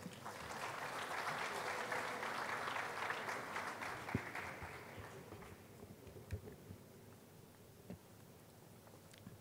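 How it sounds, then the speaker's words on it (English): An audience at a university lecture event for Chancellor's Week at KNUST applauds steadily and densely for several seconds, then the clapping thins into scattered claps as the room quiets. "A round of applause."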